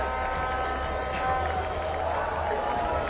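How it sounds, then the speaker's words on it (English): A crowd at Queen's Sports Club, a cricket ground, roars and cheers in a broad, sustained wash that swells slightly midway, with a commentator's voice partly audible over it. "Fantastic crowd in here in Queen's Sports Club."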